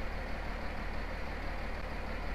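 A Swaraj 855 tractor idles in the Farming Simulator 19 video game, a steady, dense engine drone with a low throb, loud and unbroken throughout, with no voices.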